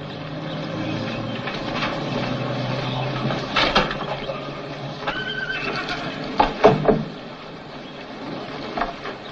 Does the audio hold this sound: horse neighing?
yes